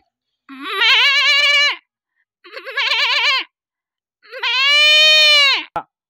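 A man imitates a goat with three long, wavering bleats, loud and close, separated by short pauses.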